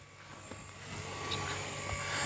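A Blade Revolution 235 CP RC helicopter flying outdoors near a runway, a thin steady rotor and motor whine that slowly grows louder as it approaches.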